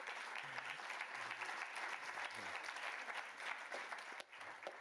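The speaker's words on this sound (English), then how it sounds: "so we applaud to all our mothers and sisters and Earth itself" An audience at an International Women's Day morning session of a conference on religions claps together in a sustained, even round of applause, fairly quiet and distant throughout.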